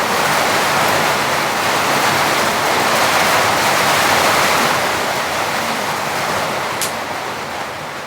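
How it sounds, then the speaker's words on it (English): Heavy rain pours down onto a cabin in a winter rainstorm, a loud, steady, broadband hiss and roar filling the space without pause and with no one speaking. "Look at that rain coming down."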